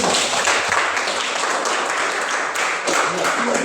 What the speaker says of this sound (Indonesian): Luar biasa, kita beri tepuk tangan.